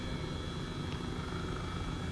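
Airbus H135 helicopter in Microsoft Flight Simulator, flying at about 5,000 feet near Mount Baker in gusty mountain wind: a steady, dense rotor and turbine drone with a faint whine, continuous and even throughout.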